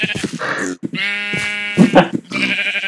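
Goats on a farm bleat in a few drawn-out, wavering calls, fairly close and loud, with brief voices or other animal sounds between them.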